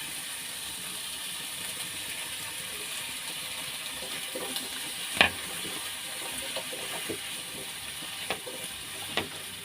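Squash and shrimp paste frying in a pan after sautéed tomatoes, a steady soft sizzle with a few sharp clinks of a utensil against the pan.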